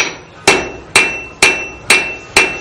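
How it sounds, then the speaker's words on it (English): A blacksmith strikes a horseshoe on an anvil at a fort forge on Dauphin Island, Alabama: five loud, evenly spaced ringing hammer blows, each with a sharp metallic attack and short decaying ring, close up and alone. "I'll be switching hammers from time to time, but not for their weights, but the shapes that are on them."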